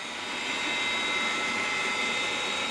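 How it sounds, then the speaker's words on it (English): A Bachmann class 57/0 model diesel locomotive, 32-753 Delta Sierra, runs along a model railway with a steady, airy motor whine and hum held at an even level, with no talk. "The other locomotive, the diesel, which you can see coming into view now, is another Bachman model, 32-753 Delta Sierra, a class 57/0"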